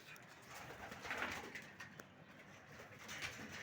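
Domestic pigeons cooing softly in a loft, a few low murmuring coos against a steady outdoor background, with no talking.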